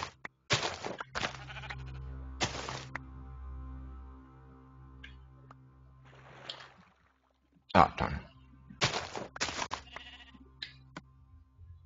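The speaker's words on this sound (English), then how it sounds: "Stupid sheep, get out of here." Sheep bleating in Minecraft on Xbox 360, several loud separate bleats spaced apart with quiet gaps between, close and otherwise alone.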